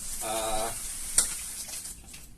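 Onions frying in a pan for chicken teriyaki, a steady close sizzle running throughout with a brief sharp clink of utensil on pan partway through.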